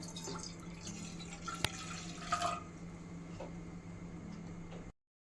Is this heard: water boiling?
yes